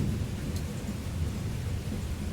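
Steady rain with a low rolling rumble of thunder, a continuous dense wash of sound that stays even and fairly loud throughout, with no voices.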